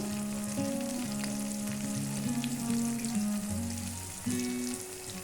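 Salt, cumin, coriander powder, turmeric and Kashmiri chilli frying in a pan, a continuous close sizzle with stirring scrapes and a steady crackle throughout, no voices.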